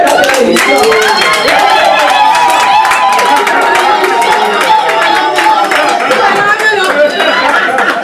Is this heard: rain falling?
no